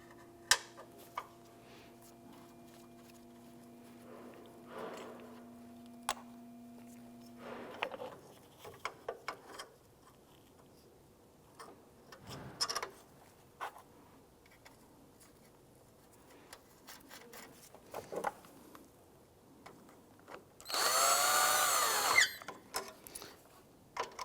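A nut being run down on a 1992-1996 Toyota Camry 2.2L starter: faint scattered clicks and metallic tapping, then a short loud ratcheting burst near the end.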